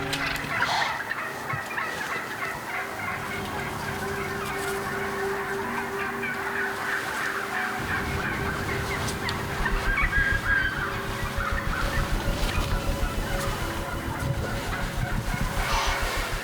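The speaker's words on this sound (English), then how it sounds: "The turkeys start to get louder." Wild turkeys gobbling in the morning woods, repeated rattling gobbles from several birds at middle distance that grow louder and busier toward the end, with no talking.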